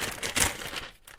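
A short rip of parchment paper being torn off, a quick crinkly burst close to the listener that fades within about a second.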